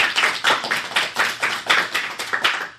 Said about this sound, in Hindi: तो जोरदार तालियां बजनी चाहिए अनिमेश के लिए।